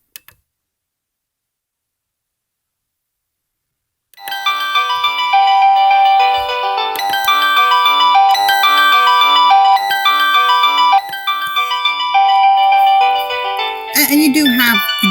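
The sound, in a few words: AVANTEK wireless doorbell chime playing ringtone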